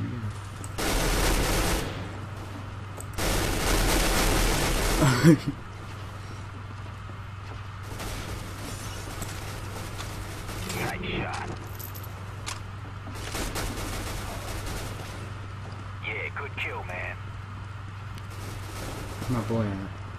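Gunfire from a weapon in the video game CS:GO comes in a few loud bursts early on, followed by quieter scattered shots and game sounds.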